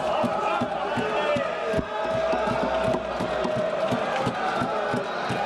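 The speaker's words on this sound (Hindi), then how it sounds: "नारे लग रहे हैं वहां पर।" A large crowd chants slogans rhythmically in unison in parliament, with sharp repeated beats like claps punctuating the steady roar of voices.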